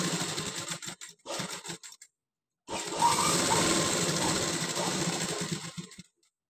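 A sewing machine stitches smooth cloth while a button is set in place, running in two bursts: a short stuttering start, a pause, then a longer steady run lasting about three seconds at close range, with no talk over it.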